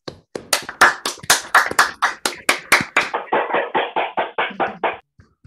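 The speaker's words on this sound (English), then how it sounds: "let's have a round of applause to Brittany" A single person's hand claps ring out alone, about twenty crisp, evenly spaced claps that quicken slightly before stopping, with no crowd joining in.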